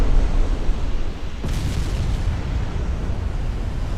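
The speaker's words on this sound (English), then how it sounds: "Oh, battleship's cooking off." A battleship's ammunition cooking off in the naval battle game Ultimate Admiral: Dreadnoughts, a single heavy explosive boom rolling out over a continuous rumbling background, fairly loud, with no speech.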